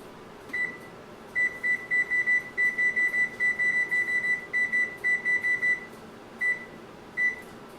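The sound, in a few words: kitchen timer beeping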